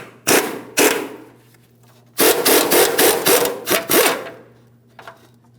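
A 21mm wrench ratchets loose the inboard control arm mounting nut on a 2007-2014 GMC Sierra 2500 HD, with two short rasping clicks followed by a longer run of quick ratcheting strokes, close and alone.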